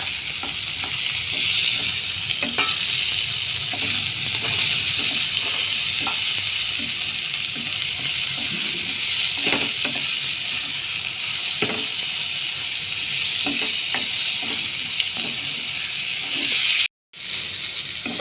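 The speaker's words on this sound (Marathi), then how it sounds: "आतां पियाव आनी टोमाट जालें भाजोलें" Onion and tomato fry in a pan for a Goan banana flower bhaji, a dense, continuous sizzle broken by scraping stirring strokes and clicks, with a brief dropout near the end.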